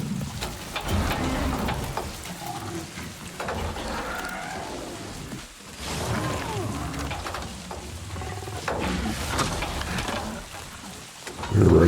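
Steady rain falls in the game Avatar: Frontiers of Pandora, a continuous hiss across the whole stretch, mixed with rumbling creature-like roars and background game sounds, no talk.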